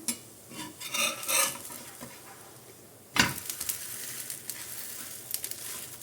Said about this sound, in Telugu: ఈ సైడ్కి వేసుకొని లో ఫ్లేమ్లో గోల్డెన్ బ్రౌన్ కలర్ వచ్చే వరకు దీన్ని ఫ్రై చేసుకోవాలి